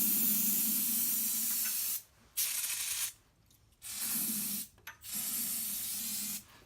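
Aerosol spray hissing into the engine of a 1967 Cub Cadet in three long bursts with short pauses between, close and steady, no talking.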